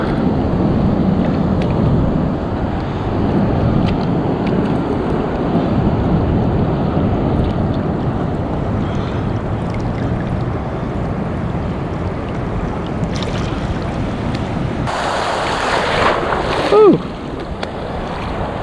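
Loud, continuous roar of high ocean surf pounding the California coast, with rolling, churning wash throughout and a brighter burst of splashing near the end, as though a wave breaks close by.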